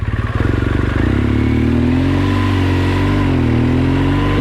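A motorcycle engine runs loud and close throughout, rumbling with a steady throttle and a slight rise in pitch as the bike rolls in, with no talking over it.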